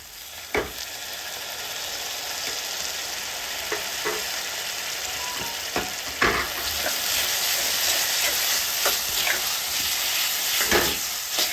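Paneer frankie filling sautés on a street-style tawa with vinegar and soy sauce, a steady close sizzle and hiss broken by occasional sharp scrapes of a spatula, no talking.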